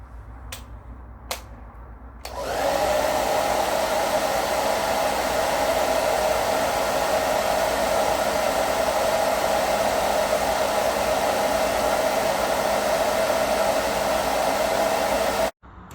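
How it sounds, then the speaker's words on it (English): A hair dryer switches on after a couple of faint clicks and blows steadily and loudly indoors for about thirteen seconds to warm a room, then cuts off abruptly near the end. "I'm just going to use this hairdryer"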